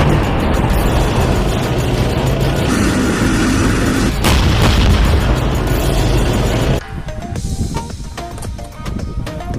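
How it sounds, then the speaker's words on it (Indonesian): A toy battle tank plays loud electronic firing effects, a dense booming, crackling barrage that runs for several seconds before dropping to a thinner, rattling clatter. "kalau ini mobil tank tempur"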